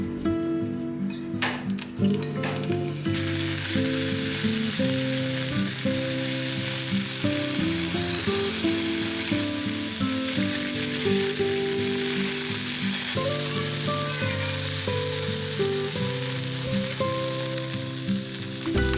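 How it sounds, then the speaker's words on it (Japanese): Chili, lotus root and carrot stir-fry over medium heat in sesame oil, giving a constant close sizzle with stirring, while steady tonal music plays underneath. "フライパンにごま油を熱し、唐辛子とレンコン、人参を入れて中火で炒めます。"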